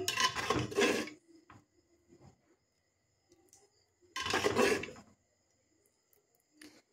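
Payesh, a Bengali rice pudding, stirred in a pot with a spoon, giving two bursts of scraping and rasping against the pot separated by quieter taps and pauses.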